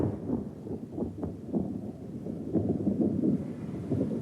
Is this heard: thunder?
yes